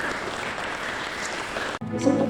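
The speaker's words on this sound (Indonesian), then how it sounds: "Tepuk tangan bagi Tuhan." Church congregation applauding at a fasting prayer service, a dense wash of clapping that runs steadily for nearly two seconds before breaking off abruptly into a different, quieter sound.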